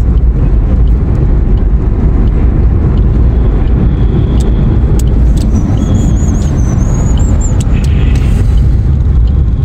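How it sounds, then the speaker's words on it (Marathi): Car traffic roars steadily through a road tunnel, a loud, continuous rumble with wind buffeting and no voices. "ट्रॅफिक"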